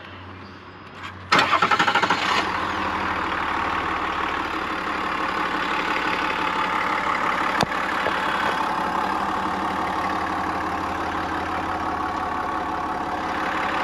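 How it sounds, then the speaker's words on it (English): A 3.0 LZ0 Duramax diesel engine in a 2024 Chevy Silverado ZR2 pickup cranks and fires up after a brief pause, then settles into a steady, rumbling idle that continues loud and close for several seconds. "That's the startup and that nice diesel idle that we all love."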